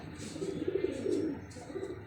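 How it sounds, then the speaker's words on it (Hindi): A golden pigeon coos in a loft beside its mate, a low rolling call repeated in soft pulses, close and fairly quiet. "गोल्डन कबूतर है और चीनी मादी है"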